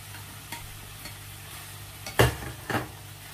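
Sliced onion and bell pepper go into a frying pan for a beef sauté, giving a soft sizzle with a couple of sharp scraping stirs near the end.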